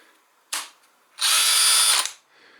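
A short blip and then a steady high whine from a brushless cordless drill running for about a second before spinning down, close and loud.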